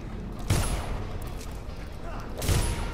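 Two gunshots fire in the Dishonored video game, separated by about two seconds, each a sharp loud crack with a brief tail over steady game ambience.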